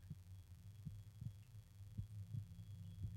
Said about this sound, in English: I can hear my heartbeat.